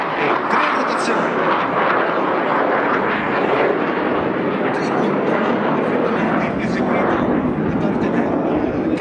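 A Panavia Tornado IDS jet flies a triple roll at an air show, its engine a loud continuous roaring rush that holds steady throughout, with an announcer's voice over it.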